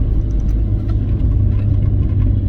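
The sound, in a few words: Austin Rover Maestro Clubman car engine while driving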